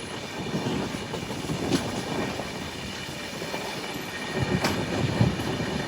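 Passenger train running on tracks near Chennai, close to Perambur: a loud, steady rumble of rolling wagons with rhythmic clickety-clack wheel beats and brief metallic squeals, continuous for the whole stretch with no voices.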